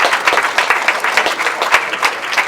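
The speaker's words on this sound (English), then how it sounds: "Big round of applause." Crowd applause at a British Masters grasstrack race meeting, an uneven, rhythmic burst of clapping from spectators outdoors, fairly loud and close, with no talk over it.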